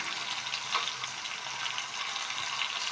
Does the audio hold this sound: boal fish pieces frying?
yes